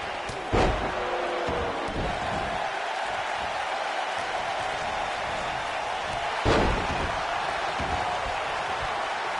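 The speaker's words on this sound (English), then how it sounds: "What a stomp." Two heavy thuds ring out about six seconds apart as a wrestler stomps on an opponent in the ring during a Hell in a Cell match, over a constant roar of crowd noise.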